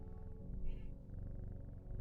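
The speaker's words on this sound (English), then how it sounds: "Such happy void purrs." A cat purrs steadily in the video game Strange Horticulture, a low continuous rumbling purr with a brief soft chirp partway through, close and alone without talk.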